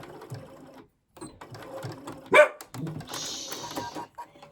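A Bernina sewing machine stitches wool in short intermittent bursts of mechanical whirring, close by, while a small dog barks and yips in between.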